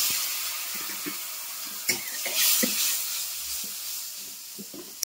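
Kashmiri chili powder and ground cumin sautéing in hot oil in a pan for khichuri, a bright sizzling hiss with occasional spoon scrapes and stirring knocks, close up and alone.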